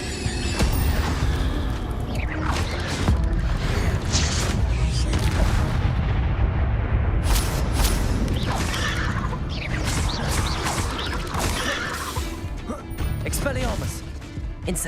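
Hogwarts Legacy combat with Incendio and Expelliarmus spell effects: dense, loud blasts, crackling bursts and rumbling impacts that roll continuously with scattered sharp hits, while a voice speaks over the action.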